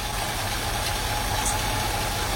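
A Mercedes W116 450 SEL 6.9 with the M100 V8 idles steadily, a low even rumble with faint mechanical ticking throughout, close and continuous, with no voices.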